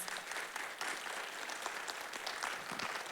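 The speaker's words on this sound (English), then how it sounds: "Please join me in giving them a hand of applause." An audience at a panel event on flood victims gives the panelists a steady round of applause, even dense clapping with no break.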